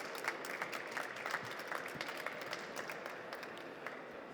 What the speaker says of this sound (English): Again, a warm applause for our panelists here.